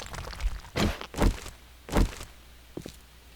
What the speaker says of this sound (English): Indeed, I do hear footsteps.